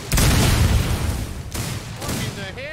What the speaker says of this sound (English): I hear nothing but explosions